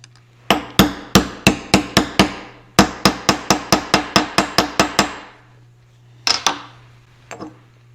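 A 32 mm socket is hammered against a water pump mechanical seal on a John Deere cranking engine, giving two quick runs of sharp, ringing metallic taps, about six then eleven strikes, loud and close, followed by a couple of softer knocks.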